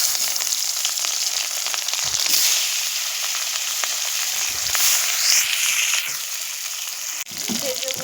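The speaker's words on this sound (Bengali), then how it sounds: "মাছগুলো আমি একে একে ছেড়ে দেব।" Pieces of katla fish hiss and crackle loudly in hot oil, a dense, continuous close-up sizzle with bursts of spitting and popping as more pieces go into the pan.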